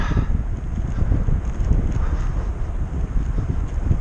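Headwind buffeting the microphone during a long winter audax bike ride, a constant loud low rumble and roar with no pauses.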